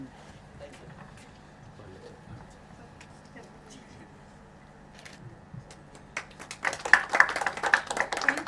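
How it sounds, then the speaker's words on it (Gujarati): A seated audience at a teacher award ceremony breaks into applause, building from scattered claps to a loud, dense burst of clapping after a stretch of speech over a low hum. "જોરદાર તાળીઓથી બધાવીએ"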